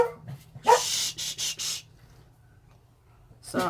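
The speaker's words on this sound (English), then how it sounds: "Sorry about the barking." A dog barks in a short burst of several sharp, loud barks, followed by quieter rustling and one more bark at the end.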